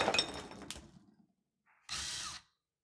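A drill grinds into glassware, a harsh close-up burst of grinding and cracking that fades, then after a brief silence a second short, loud drilling burst.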